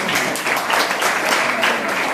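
Listeners at a Jain scripture class in Pusad applaud in a brisk, continuous burst of many hands, close and fairly loud, holding steady for around two seconds.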